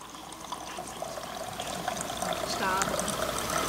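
Water pours steadily into a cup, a continuous trickle that grows fuller and louder as it fills.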